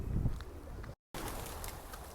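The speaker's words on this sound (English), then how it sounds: "Honestly, I'm finding comfort being around the birds." Pigeons coo softly in a graveyard, low murmuring calls close by over a constant outdoor hiss, briefly cut to silence midway.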